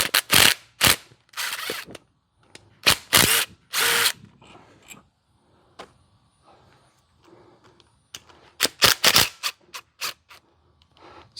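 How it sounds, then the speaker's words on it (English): A ratchet loosening a 10mm tensioner bolt on a Mustang 4.6 engine, heard as several loud bursts of clicking pawl strokes in groups, with quieter handling and tool noises between them. "I'm just gonna crack the bottom one loose."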